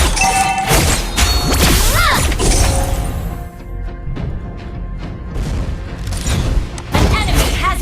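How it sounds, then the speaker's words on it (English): In the mobile game Mobile Legends: Bang Bang, a turret is destroyed amid loud, layered explosions, crashes and thuds. The blasts come in bursts over game music, and game voices speak throughout. "Your team destroyed the turret."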